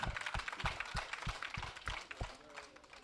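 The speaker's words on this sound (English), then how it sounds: "Can we clap, please?" An audience at the Bajana International Marathon in The Gambia claps in a quick, steady rhythm, sharp close beats carried over a murmur of talk that fades toward the end.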